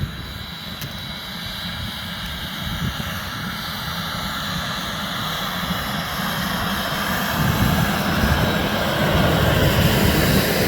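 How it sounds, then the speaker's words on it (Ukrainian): Veles Agro Kolisnytsia 6 seeding unit sowing winter crops in a field, a steady broad mechanical drone with low rumble that rises slightly in level over the span, continuous with no talk. "Ось зараз агрегат працює."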